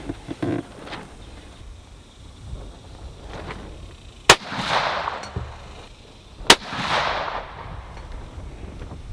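Two loud, sharp rifle shots fired with an EC Tuner muzzle brake on setting 2, a couple of seconds apart, each followed by a broad rushing echo across the outdoor range.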